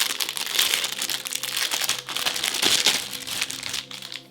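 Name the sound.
unwrapping keyboard cables from packaging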